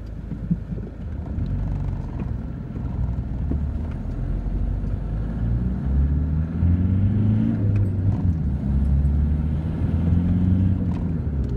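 A turbocharged car engine revving and accelerating gently while driving, a steady low rumble swelling in pitch and loudness over several seconds with some wind noise, no voices.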